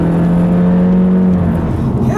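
A 2016 Honda Civic EX-T Coupe with a turbocharged engine pulls hard under acceleration, giving a close, steady engine drone with a rising tone from inside the car and no talk over it.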